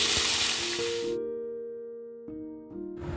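Carrot and other vegetables hit hot oil with a loud sizzle that fades away after about a second, with faint clinks and a brief stir of the pan.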